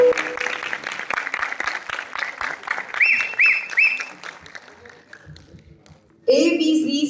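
An audience at an arts council talent show in Rawalpindi claps in a brisk, uneven burst that fades out, with faint voices and a few brief whistle-like tones mixed in, followed by a louder voice at the end.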